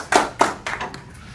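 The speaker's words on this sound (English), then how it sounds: "Give her a big round of applause." Audience at a comedy magic show clapping, a few loud bursts of hands in quick succession that fade away within about a second, close and reverberant.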